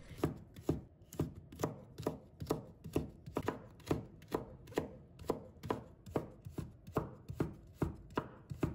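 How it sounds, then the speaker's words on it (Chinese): Steady knife strokes chopping a carrot into thin strips on a cutting board, about two crisp chops per second, close and clear with no talking. "然后胡萝卜再给它翻下来，继续切成薄片，这样我们切的时候就不易打滑。 再把它切成细丝"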